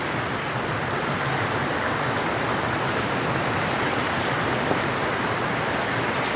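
Steady rushing flow of a creek pool at a natural stream near Barra do Garças, Mato Grosso, a continuous broadband wash of water with no voices heard.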